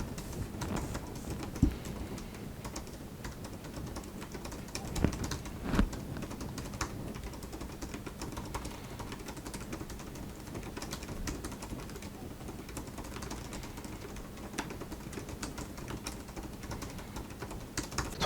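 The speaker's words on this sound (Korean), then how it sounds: "타이핑 한번 쳐볼게요." Typing on the keyboard of a 2018 Apple MacBook Pro 15-inch, a quiet run of soft, shallow key clicks in an irregular steady patter, with a few louder taps standing out, close and alone.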